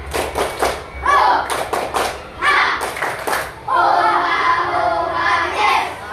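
Children in a classroom clap a rhythmic chant in bursts of sharp, loud hand claps with chanted voices, pausing between phrases before a longer stretch of clapping and chanting.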